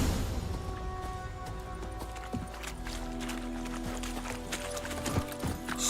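Steady clip-clop of horse hooves while riding in The Witcher 3, with a regular rhythm against an ambient game backdrop; no talk.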